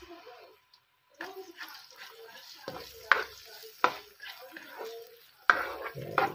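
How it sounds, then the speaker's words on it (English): Onion pieces drop into a hot pan for a chicken and chorizo paella and start frying, with stirring scrapes and a few sharp clacks of a utensil on the pan, close by with steady sizzle underneath. "So, mainit ang kawali natin, lagyan natin ang onion."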